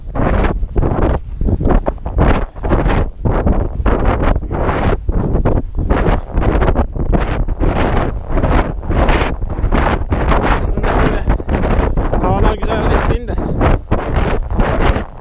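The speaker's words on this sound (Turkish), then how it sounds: "Bir de rüzgar da var." Strong wind gusts buffet the microphone outdoors near horses, a continuous roaring rush that swells and dips throughout, with faint voices partly buried beneath it.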